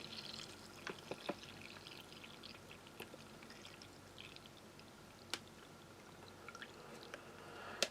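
Cold water is poured into a plastic MRE ration heater bag on a table: a quiet, continuous trickling pour with scattered small splashes and drips, heard close and alone.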